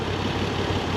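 Moto Guzzi V85TT motorcycle idling while stationary, a steady low, lumpy engine rumble that runs close and continuous for the whole second.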